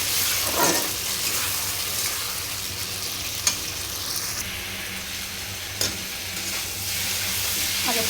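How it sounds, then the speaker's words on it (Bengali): Spice paste and potatoes are stir-fried with a splash of water for a Bengali rohu fish curry, giving a continuous wet sizzle with occasional sharp scrapes of the spatula, close and without voices. "জল দিয়ে মশলাটা আমি কষিয়ে নেব আলুর সঙ্গে।"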